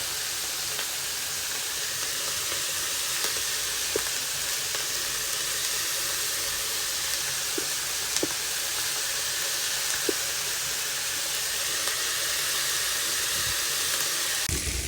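Onions fry with chickpea sundal in a pan, giving a steady close sizzle throughout with occasional light clicks and scrapes from stirring.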